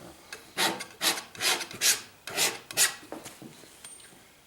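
A palette knife scrapes paint across a landscape canvas in about six rhythmic, dry rasping strokes, each a short swell, close and fairly quiet, trailing off at the end.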